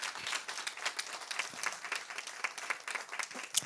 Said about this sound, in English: Can we give a round of applause to all of our community members who asked questions?